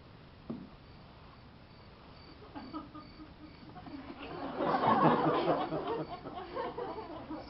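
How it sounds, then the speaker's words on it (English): Crickets chirp in a faint, thin, repeating trill, with a brief burst of soft laughter and chatter rising partway through. "I love the crickets."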